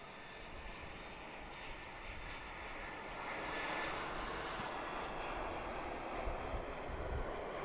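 Airbus A340 or A330 airliner landing at Chicago O'Hare, a steady broadband jet roar heard from a distance that swells slightly midway and holds, with no talking.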